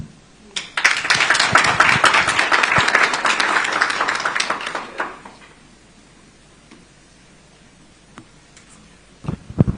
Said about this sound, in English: A round of applause, please, for the candidate.